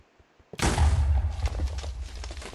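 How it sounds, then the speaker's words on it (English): A sudden loud blast from a Minecraft GregTech 6 modpack explosion erupts after a brief quiet moment, then a deep booming rumble and crackling debris fade slowly. "That's a heck of an explosion."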